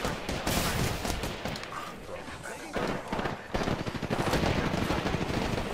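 Rapid automatic gunfire from the Apex Legends video game rattles in dense bursts, loud and nearly continuous with short gaps, under voices talking.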